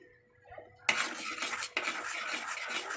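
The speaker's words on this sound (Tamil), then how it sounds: "நம்ம வந்து கை விடாமல் இப்போ தான் கிளறிட்டே இருக்கணும்" A spoon stirs thick, glossy Karachi halwa in a pan, giving a steady scraping and squelching that starts abruptly after a quiet moment and continues close and moderately loud with one brief pause.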